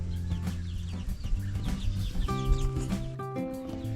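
Farm ducks call close by, a run of loud, nasal, honking quacks that overlap and come in irregular bursts, with no talking.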